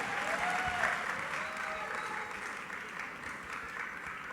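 Loud, continuous crowd applause for Kamal Babu at a Hum Aapke Hain Koun 25-year cast gathering, steady and full throughout, with a faint voice briefly rising above it.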